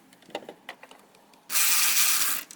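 A 12mm bolt worked loose on a Hyundai Tucson engine during a timing chain and head gasket job: a few light ratcheting clicks, then a dense, loud burst of mechanical whirring for about a second.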